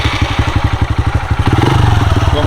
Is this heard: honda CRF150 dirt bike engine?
yes